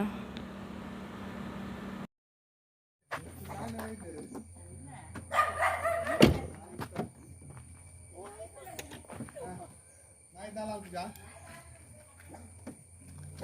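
A dog barks a few times near the middle, sharp and fairly close, with people talking before and after.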